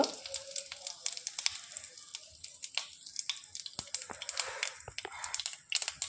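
Mustard seeds, cumin and a pinch of asafoetida crackle and sizzle in hot oil, with dense sharp pops over a steady low hiss, close and moderately loud, with no talk.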